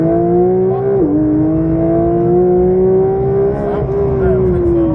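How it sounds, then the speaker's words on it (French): Race car on the Dreux circuit at full throttle, its engine note loud and close, climbing steadily with a brief dip at a gear change before pulling hard again. "Gaz à fond."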